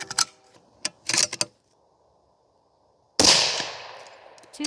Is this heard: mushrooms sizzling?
no